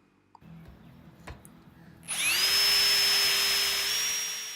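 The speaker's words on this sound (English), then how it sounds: "So then wanted to pre-drill." A power drill pre-drilling wood for a deck balustrade spins up after a quiet stretch, a steady high whine that holds loud for a couple of seconds before easing slightly.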